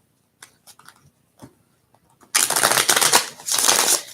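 Tarot cards being shuffled, a few soft isolated riffles and taps first, then a loud, dense, continuous flurry of papery shuffling close by, with no talk.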